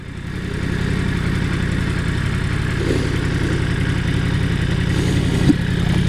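A black 2017 Yamaha R1 sport bike heard while riding, its engine holding a steady, even drone at a constant pitch, close and fairly loud, with wind noise over it and no talk.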